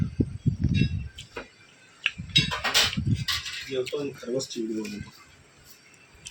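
Metal pots and lids clink and clatter in short bursts while someone talks close by, the clanks loud and irregular.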